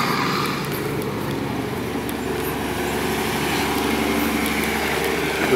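An Isuzu dump truck with a trailer reverses while its engine runs steadily, a loud and continuous mid-pitched drone heard up close with no voices.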